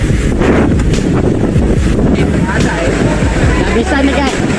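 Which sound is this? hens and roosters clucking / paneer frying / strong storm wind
strong storm wind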